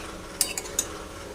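Spoon stirring taro leaves sautéed with coconut in a pan, three quick scraping clinks against the metal over a faint steady background, close by with no talk.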